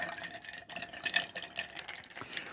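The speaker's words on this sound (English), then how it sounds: "So I'm just gonna kind of stir down." Ice stirred in a whiskey old fashioned glass for a cherry cola old fashioned, giving soft continuous clinks and rattles of the cubes against the glass, close and quiet.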